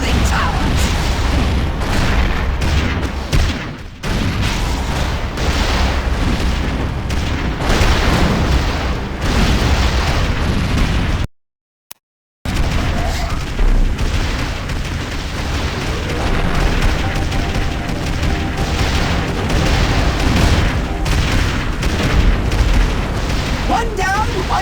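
Loud, dense explosions tear apart cooling towers in the Xbox 360 game Destroy All Humans! Path of the Furon, booming rumbles running almost continuously, broken by one brief cut to silence midway.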